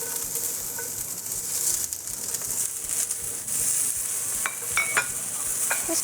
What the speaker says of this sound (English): I think we cook the onions first actually